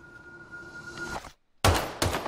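In a film trailer, after a faint humming tone and a moment of silence, two loud, sharp gunshots crack out close together.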